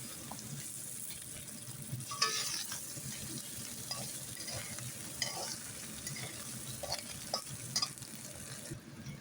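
Spices and potatoes fry in a pan for a fish curry, a soft continuous sizzle broken by repeated scraping and stirring clatter from a spoon, fairly faint and steady throughout.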